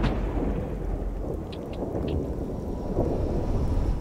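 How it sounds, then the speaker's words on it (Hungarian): Low, rolling thunder rumbles steadily through a stormy scene in the video game The Cycle: Frontier, a deep continuous roar with a few faint higher tones flickering above it. "Dörög az ég."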